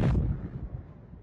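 A firecracker bomb blast near a city square bursts loudly at the start, followed by a rumbling, fading roar that dies away over about a second.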